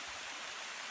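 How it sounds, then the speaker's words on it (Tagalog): Water rushes down at a sulfurous hot spring at Maco, Davao de Oro, a steady broadband hiss of flowing water with no breaks and no talk. "Ayan, pababa yung tubig."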